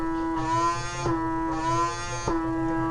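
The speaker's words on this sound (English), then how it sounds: "you'll hear the suction, which makes you realise when you've actually got it working the way it should be" A PMD skin device held against the face hums with a steady motorized buzz, its suction pulsing in three cycles that rise and fall with a click between each.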